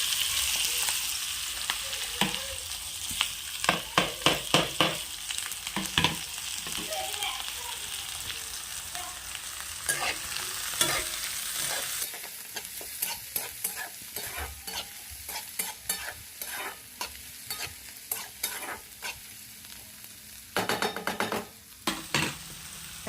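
Onions frying in plenty of oil for egg bhurji, a steady close sizzle broken by frequent stirring scrapes and clicks of a spatula against the pan, with no talking.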